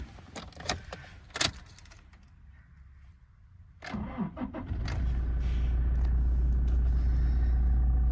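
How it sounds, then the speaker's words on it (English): 2017 Toyota Hilux SR being started from inside the cab: keys jingle and clunks, then the starter cranks and the engine catches into a loud, steady low idle. "Coming in to start the car."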